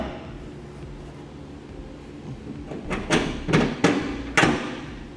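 Metal 1/2 inch U-bolts being fed through freshly drilled holes in a 2012 Chevrolet Silverado truck frame during a gooseneck hitch installation, giving a few sharp metallic clanks and thuds near the end, close up over quiet background.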